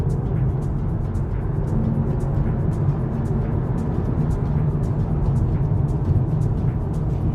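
Steady engine and road drone from inside a 2023 facelifted VW T-Roc on 19-inch rims as it accelerates with its dual-clutch transmission, a continuous, fairly loud hum with no voices.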